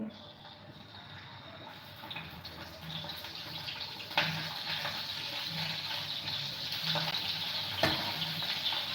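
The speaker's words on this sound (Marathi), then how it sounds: "ही अशी भरलेली मिरची ती अशीच सोडून द्यायची तेलात काढायला" Stuffed chilies frying in hot oil produce a steady, close sizzle that slowly grows louder, with occasional sharp clinks and stirring sounds.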